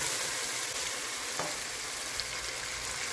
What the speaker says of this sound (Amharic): ቲማቲም ከሽንኩርት ጋር አሁን በጥሩ ሁኔታ ተጠብሷል።